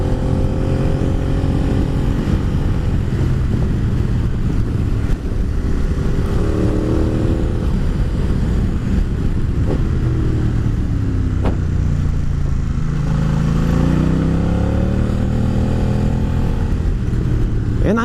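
An Aprilia Caponord motorcycle engine drones steadily under heavy wind noise while riding, its pitch swinging up and down as it accelerates through the gears, including in second gear.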